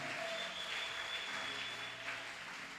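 A church congregation applauds and cheers for Jesus during a sermon, a steady, sustained wash of clapping that fills the whole stretch at even loudness with no speech over it.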